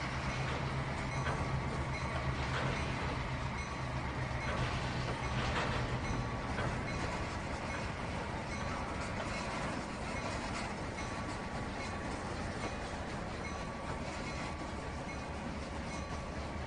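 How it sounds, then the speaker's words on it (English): Simulated freight train in Trainz 2019 slowing on the locomotive's independent brake, a steady rumbling roll with faint wheel clatter and metallic hiss, continuous and fairly quiet throughout. "I was using the independent brake, which is just the locomotive's brakes, to try to stop this train"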